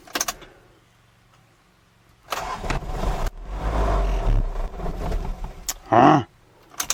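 A Ford Ranger engine cranks and catches, then roars up to high revs on start before the sound cuts off. Short clicks come before it, and a brief sharp squeal follows. No one speaks.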